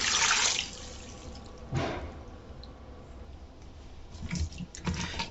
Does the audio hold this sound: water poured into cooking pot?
yes